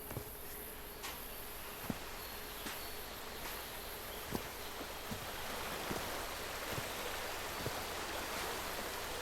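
Water flows steadily through a scenic island setting in the game Call of the Sea, a soft continuous broadband wash with a faint high hiss and scattered small clicks, alone without talk.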